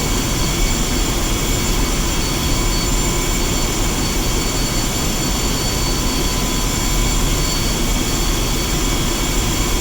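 A Su-25 jet taxis toward the runway in the DCS combat flight simulator, its engines giving a loud, constant roaring whine with a high thin tone over deep rumble, unbroken throughout.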